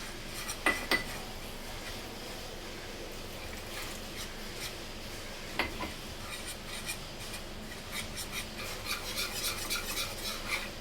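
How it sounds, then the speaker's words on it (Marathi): A thick batter of flour, salt and water stirred in a bowl, soft steady scraping and rubbing with a few sharp utensil clinks against the bowl, fairly quiet and without speech. "अशा प्रकारे आपल्याला थिक बॅटर बनवून घ्यायचं आहे"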